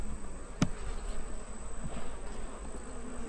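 Honeybees buzzing around an open hive box, a steady close hum of many bees with a brief sharp knock near the start, no voices.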